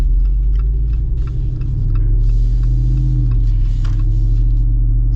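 A Jeep Wrangler Rubicon 392 V8 holds a steady, deep rumbling idle, close and loud, with a faint ticking texture and no voices.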